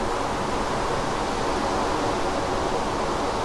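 Steady, dense rain hiss from a rainstorm in Minecraft, modded CrazyCraft play, a continuous even wash of noise with no breaks, holding at one level throughout.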